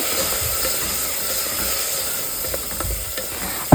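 Urad dal fries in hot tempering oil with a steady, bright sizzling hiss, close and even, and occasional faint pops.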